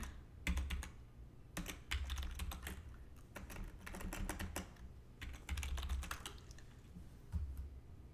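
Typing on a computer keyboard with worn, faded key labels: quiet irregular bursts of clicking keystrokes with pauses in between, close and soft, with no talking.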